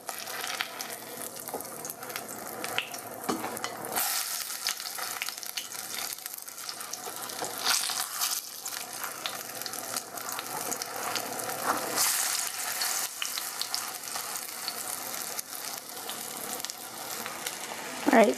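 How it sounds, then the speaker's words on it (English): Savory pies fry in hot oil after being flipped, making a dense, continuous close crackling sizzle with bursts of louder spattering throughout. "once you think they're golden brown on one side, you flip it over."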